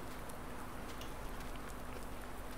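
Steady rain falls in Farming Simulator 19, a faint, even hiss of drops that continues unbroken with no talk.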